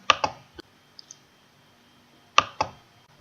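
Crisp computer mouse clicks during a software installation on Windows, in two close pairs with a couple of faint single taps between, near and isolated in a quiet room.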